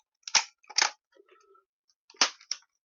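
A Dart Zone pirate blaster is pulled fully back to prime, giving two sharp, close clicks, a few faint rattling mechanical sounds, then two more crisp clicks.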